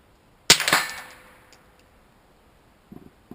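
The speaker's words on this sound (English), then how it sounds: "Last shot with the copper." A single sharp crack from a Ruger 22/45 pistol firing CCI copper .22 rounds, ringing out with a short decaying tail, followed later by a few faint mechanical clicks.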